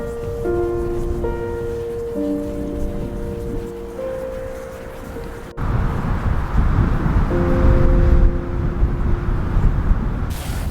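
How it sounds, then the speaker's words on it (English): Heavy rain falls outdoors in the city of Cuenca during a stormy sunset, a loud, steady broadband hiss that intensifies partway through, with sustained musical tones over it early on. "rain's getting heavier now"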